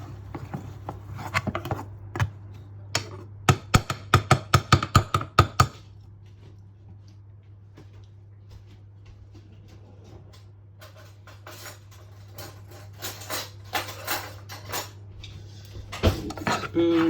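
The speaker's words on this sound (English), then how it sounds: "Just continue to mash it with the butter in there." Potatoes mashed with butter in a pot, giving rapid sharp clacks of the masher against the pot in a dense burst, then quieter scraping and scattered knocks, close-up over a steady low hum.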